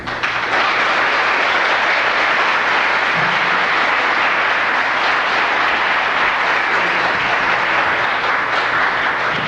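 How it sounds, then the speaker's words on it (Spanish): Loud, sustained applause from a large crowd, steady clapping filling the whole stretch without letting up. "un aplauso fuerte para despedir a nuestro querido amigo y hermano William Soto Santiago."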